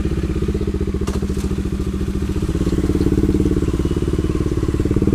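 A Bajaj Dominar 400 motorcycle engine drones steadily and loudly while riding on the road toward Tagaytay, with a rapid pulsing rumble and occasional clatter, no talking.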